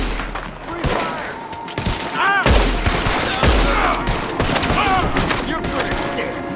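Rapid bursts of gunfire and booming shots in Red Dead Redemption 2, a dense, loud volley running throughout with shouted game voices mixed in.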